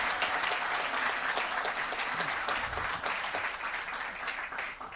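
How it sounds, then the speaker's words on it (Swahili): An audience applauds steadily through a bank's annual financial results event, a dense, even wash of many hands clapping with no break, moderately loud and alone. "Tuongeze makofi mengi sana,"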